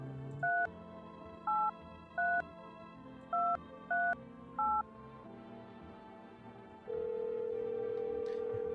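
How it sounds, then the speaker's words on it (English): A phone in a video game dials to call the neighbor: six short two-tone keypad beeps in an uneven rhythm, then a steady ringing tone that continues to the end. "Calling the neighbor."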